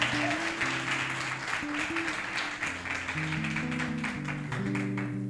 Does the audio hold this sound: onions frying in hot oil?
no